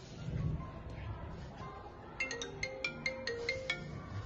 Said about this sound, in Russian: И тут вдруг зазвонил телефон.